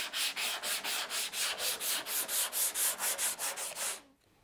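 Filler on a Porsche 911 body panel is block sanded by hand in a rhythmic series of about sixteen even strokes, each a close, loud, hissing rub, before the motion stops.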